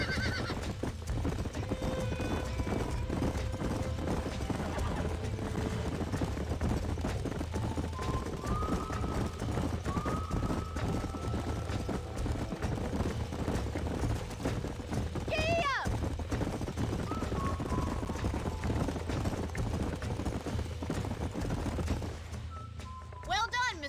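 Horses in the Red Dead Redemption video game clip-clop steadily throughout over a low rumble, with several whinnies and neighs rising above the hoofbeats, and voices talking now and then.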